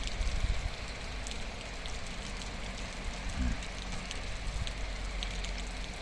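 Spring rain falls in Mangystau in April 2023, a steady, even hiss with faint pattering, moderately close and without a break throughout.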